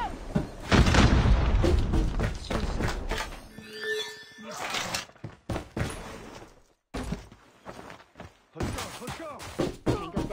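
A grenade explodes in a tactical shooter game with a loud, heavy boom at the start, followed by rumbling debris, scattered thuds and gunfire-like bursts that trail off amid brief game chatter.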